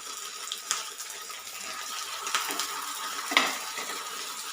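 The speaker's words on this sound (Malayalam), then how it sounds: "ഓരോന്നായിട്ട് വറുത്തെടുക്കാം." Stuffed folded snacks fry one by one in hot oil in a pan, a steady close sizzle and bubbling hiss with a few soft clicks and splashes, no voices.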